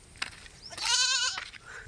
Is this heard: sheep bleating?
yes